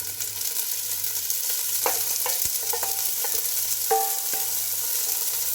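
Green peas sauté in a hot pan with a constant sizzle, broken by several sharp spoon scrapes and clinks against the metal. No voices are heard.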